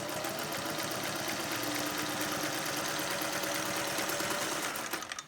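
Sewing machine running continuously while stitching facings onto a garment neckline, a dense steady mechanical whir close up, slowing and stopping at the end.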